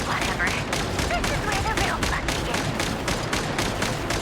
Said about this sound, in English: we get to use guns